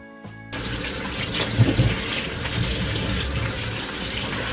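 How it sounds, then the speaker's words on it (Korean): Tap water runs steadily into a sink or bowl of baking soda water while cucumbers and oriental melons are washed, a close, continuous splashing gush with a few louder knocks partway through. "베이킹소다를 물에 풀고 한번 깨끗하게 씻어주도록 할게요"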